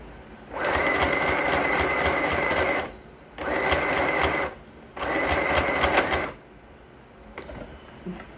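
Three bursts of a sewing machine stitching a trouser waistband at speed, each a few seconds long with short pauses between, close and loud.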